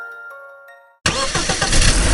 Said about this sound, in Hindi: और दोनों बाइक लेकर गुल्ली बुल्ली और शॉन के घर की ओर जाने लगे।